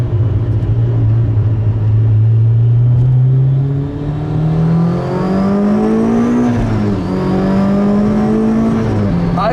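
A supercharged 2008 Honda S2000 CR accelerates hard, its loud engine tone climbing steadily through the revs with a brief dip at a gear change, heard from inside the car.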